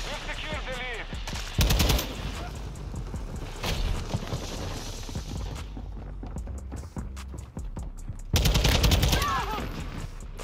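SCAR rifle fire in Modern Warfare 2, played in third person: loud, rapid bursts near the start, middle and end, separated by quieter stretches of game noise and shuffling.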